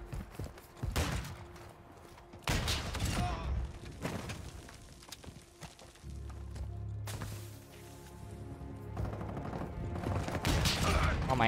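RPG rocket launcher fire in a Modern Warfare 2 free-for-all match, with loud blasts and explosions bursting at irregular intervals amid other gunfire and rumbling booms.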